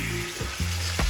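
King fish steak frying in butter in a pan, a brief close sizzle with stirring or turning sounds.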